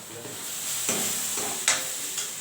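Broad beans sauté in a hot pan with chana dal, a soft continuous sizzle broken by three sharp stirring scrapes of a spoon against the pan.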